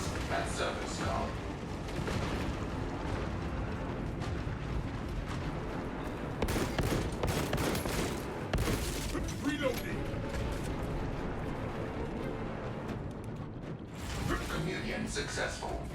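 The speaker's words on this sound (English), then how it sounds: "Fire the cannons." Cannons fire in the video game Space Marine 2 during a fortress battle against a Titan, booming blasts and rumbling impacts layered over continuous mechanical noise and battle clamor, loud and dense for most of the stretch.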